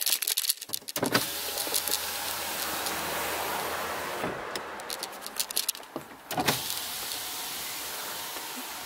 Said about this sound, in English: you need to open all of your car's windows.